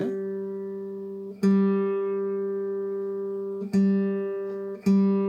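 A guitar string plucked and tuned up to G while a clip-on tuner reads it, three bright plucks at even spacing, each ringing out with rich harmonics and slowly fading, with no voices.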